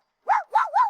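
A person imitates a dog, giving two or three quick, wavering bark-like yelps up close and fairly loud, alone without other sound.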